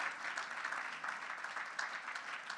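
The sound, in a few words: audience applause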